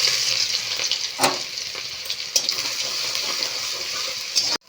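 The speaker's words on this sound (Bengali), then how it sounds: "জিরে ভালো করে লাল হয়ে গেছে, এবারে দিয়ে নেব রসুন কুচি" Chopped garlic hits hot mustard oil with browned cumin seeds, producing a steady close sizzle with a few sharp stirring knocks and scrapes, no talking.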